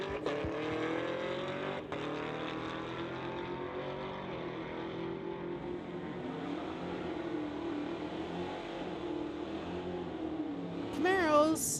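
A Jaguar and a Camaro run a street-legal drag race at a MOPAC event, their engines roaring and revving with rising and falling pitch at a distance, while a voice talks faintly underneath.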